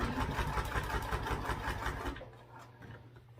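A sewing machine stitches sticky vinyl under a Teflon presser foot, a steady rapid mechanical whir that runs for about two seconds, then drops to a quieter low hum as the stitching stops.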